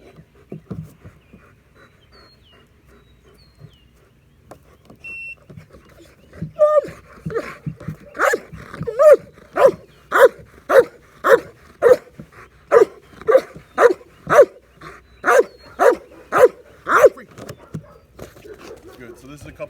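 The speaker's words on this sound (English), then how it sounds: "already offering the behavior that I like of the active barking on the target, away from me" A dog barks hard and repeatedly at a target during bark training, a steady run of loud, evenly spaced barks that builds through the second half after quieter panting and stirring.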